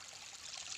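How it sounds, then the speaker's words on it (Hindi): Water flowing steadily through a mountain canal in Himachal, a continuous broadband rush and trickle heard close and alone, slightly swelling toward the end. "ये देखिए बहुत पानी बह रहा है यहाँ पे"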